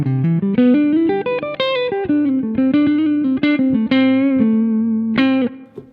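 An electric guitar plays a bright riff through distortion, with quick bending double-stop notes sustained in a continuous, loud phrase that fades at the end.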